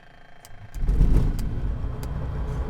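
A Kitfox tail-dragger's engine throttling up in a flight simulator, a low drone that jumps sharply in loudness near the start and then holds a steady, close rumble with faint clicks over it.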